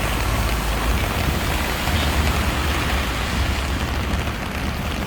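Steady, dense rain hiss on a street in Alexandria fills the clip at an even loudness, with a low rumble of thunder underneath and no voices.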